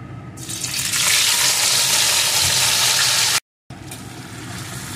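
Marinated hilsa fish pieces dropped into hot mustard-oil tempering with dried red chilli and black cumin, sizzling and hissing loudly and steadily at close range, then a brief cutout before the frying resumes.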